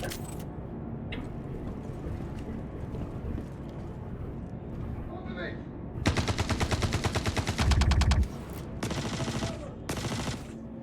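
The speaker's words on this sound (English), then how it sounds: "Hear that big gun go off?" Heavy weapon fire in the Star Citizen game, rapid bursts of loud gunshots from about six seconds in, with a deep booming stretch near eight seconds, after quieter ambient game noise.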